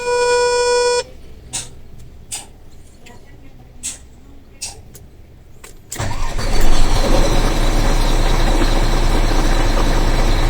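A Howo NX430 dump truck's Weichai diesel engine cranks and catches after a few seconds of quiet clatter, then settles into a loud, steady rumble that continues to the end.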